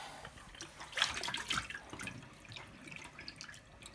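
Water trickling and dripping as it is flushed through a hog casing at an off-grid homestead, a soft, steady wet splashing with a brief louder gush near the start.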